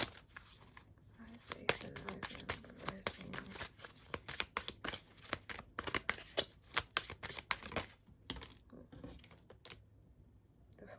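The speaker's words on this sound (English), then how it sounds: "I gotta go get all those cards, and I'm reshuffling." A tarot deck is reshuffled by hand, giving rapid riffling and flicking card bursts with brief gaps, close and fairly quiet, with a voice talking now and then around it.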